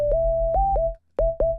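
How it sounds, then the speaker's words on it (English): Clean, pure synthesizer sine wave tones holding one pitch, broken into a few short notes with a brief silence in the middle. "Just sine waves, right?"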